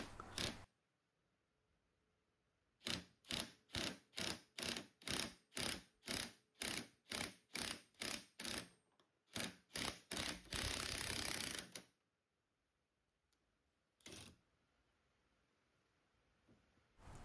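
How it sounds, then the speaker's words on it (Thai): An impact socket pressing out a universal joint on an Isuzu TFR driveshaft: a run of about fifteen evenly spaced sharp mechanical rattling bursts, then a sustained grinding burst and one final short rattle, all loud and close. "พอเล็งให้มันตรงแล้วก็ใช้ตัว บล็อกกระแทกเนี่ยกดออก"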